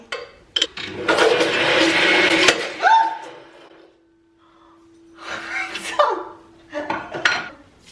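A kitchen blender churns a smoothie of frozen bananas while a spoon is pushed into it: a loud, close whirring burst lasting about two seconds, then rattling clatter, a pause, and shorter renewed bursts.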